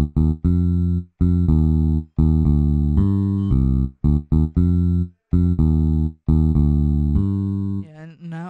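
Fingerstyle bass from a GarageBand software instrument for a beat, playing a run of short, punchy low notes in a steady rhythm with brief gaps, loud and alone, ending in a wavering tone.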